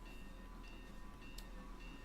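A train engine in a Roblox video game sounds a steady, sustained whistle tone over continuous rumbling rail noise, loud and unbroken throughout.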